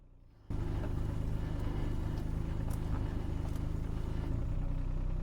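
Yanmar diesel engine on an early-2000s tracked machine starts up abruptly and then runs at a steady, loud, even idle throughout, close by with no talking.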